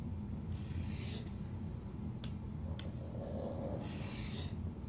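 A new Gerber knife is drawn along its bevel on a sharpening surface, producing light, soft rasping strokes that are close and quiet over a low steady background hum, with no talking.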